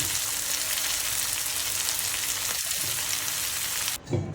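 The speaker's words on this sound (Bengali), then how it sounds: "আমি যে ভাজা মশলা করছি সেগুলো এখন দিচ্ছি" Roasted spices frying in a hot pan give a steady, close sizzle with soft stirring scrapes, ending in a brief clatter.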